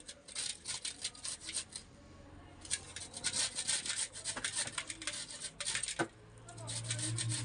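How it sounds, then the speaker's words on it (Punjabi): Carrots being grated by hand on a grater produce rapid rhythmic rasping strokes, close and fairly loud, in bursts with brief pauses, ending in a low steady rumble. "ਇੱਧਰ ਚਾਰੇ ਪਾਸੇ ਤੋਂ ਆਪਾਂ ਇਹਨੂੰ ਕੱਦੂਕਸ ਕਰ ਲੈਨੇ"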